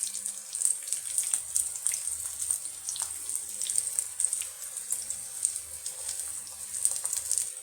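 Potato snacks frying in oil in a wok, a continuous hissing, crackling sizzle with fine popping bubbles, close and even throughout.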